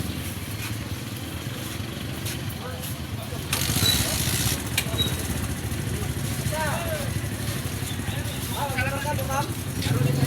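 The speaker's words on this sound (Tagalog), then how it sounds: "Palarga na ang tri-cab." Motorcycle tricycle (tri-cab) engine rumbling steadily throughout, getting louder partway through, with people chatting over it and faint bird chirps.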